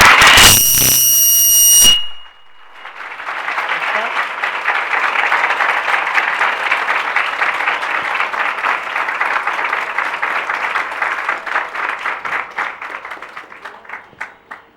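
A crowd applauds loudly at a satsang gathering in London, sustained dense clapping that holds steady for over ten seconds before thinning and tapering off, preceded by a brief burst of shrill electronic tones.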